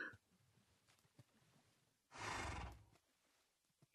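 A horse in Minecraft gives one short, breathy neigh lasting under a second, loud and close against otherwise quiet game background with faint clicks.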